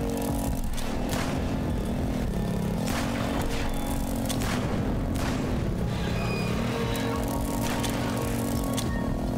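Repeated mortar blasts in a video game land as broadband bursts at a steady pace over continuous engine-like droning, loud and busy throughout with no talking.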